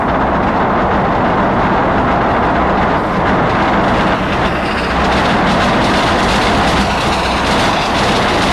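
A freight or passenger train rolls past in the city-building game Workers & Resources, a loud, steady rumble with rhythmic clickety-clack of wheels over rail joints and faint metallic squeal, continuous for the whole stretch.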